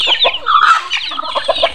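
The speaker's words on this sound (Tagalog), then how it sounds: "Manok ng aking pamangkin yan." Backyard chickens cluck busily up close, a loud, dense run of short clucks and squawks from several birds with no voices.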